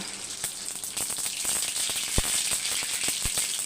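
Mustard seeds sizzle and pop in hot oil in a pan for lemon rice, a continuous frying hiss punctuated by sharp irregular crackles and snaps, close up with no talking.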